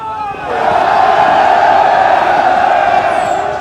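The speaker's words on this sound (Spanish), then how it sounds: "¡Griten con fuerza!" A large crowd shouts and cheers loudly together, a sustained roar of many voices that swells in after a brief quieter start and holds strong to the end.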